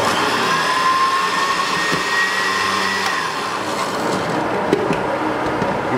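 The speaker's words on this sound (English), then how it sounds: "the blender ain't working so good." A kitchen blender that is not working well whirs while mixing pimentos, salt and a little water for a geera pork dish. Its motor gives a steady, loud whine and hum that wavers slightly for six seconds, with no talking.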